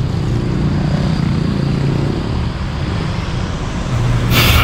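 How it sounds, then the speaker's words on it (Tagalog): Steady road traffic on a busy, congested street in Metro Manila, a continuous low rumble of engines with a vehicle growing louder toward the end. "Walang araw na hindi traffic po dito sa lugar na ito."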